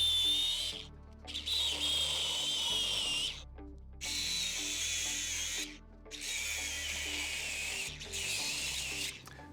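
Power tool cutting down a metal motor-mount part while fitting a Tesla Model 3 motor into a Nissan 300ZX, a steady high whine in three long bursts separated by brief pauses, close and loud with no talk.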